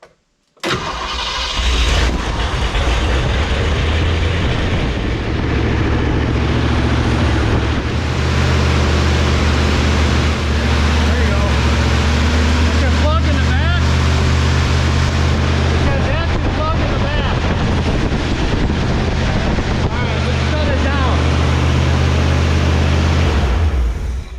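1970 Ford Torino V8 cranks briefly then catches and roars to life, running loud and rough close to the microphone with wind buffeting, while voices talk faintly over the engine.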